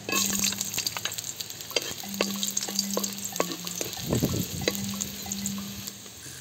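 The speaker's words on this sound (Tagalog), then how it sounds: "pagkatapos natin gumawa ng atwiti oil, mag-isa na tayo ng luya" Ginger pieces sautéing in annatto oil in a Filipino kitchen, a steady close sizzle broken by repeated scrapes and clinks of a stirring utensil against the pan, with no voices.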